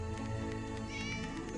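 A cat in the video game Divine Divinity gives a short, clear meow over a steady, faint backdrop of game music.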